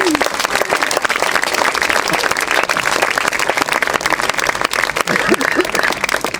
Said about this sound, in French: On applaudit, Bénédicte, s'il vous plaît.